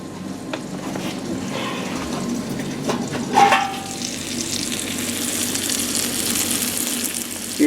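Chicken fries and simmers in a pan with a continuous close crackling sizzle, joined by a brief clatter of a utensil midway, with no talking.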